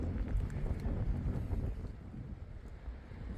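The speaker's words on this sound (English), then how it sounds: "Well, this wind's kicking today." Strong, cold February wind gusting across an open farm, roaring steadily and buffeting the microphone with a low, rumbling rush throughout and no voices.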